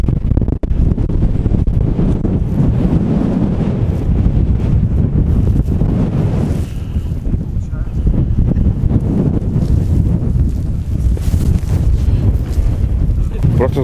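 Strong wind on Mount Klementyev, a mountain viewpoint above Koktebel where hang gliders train, roaring loudly and constantly against the microphone with gusty buffeting throughout.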